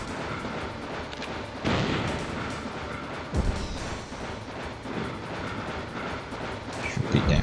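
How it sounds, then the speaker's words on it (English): Heavy missile blasts boom from the Metal Gear Solid PC game, with several deep, rumbling impacts that swell and fade over a continuous low roar of background noise. "More missiles."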